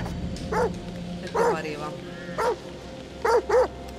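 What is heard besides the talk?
dogs barking in video game The Devil in Me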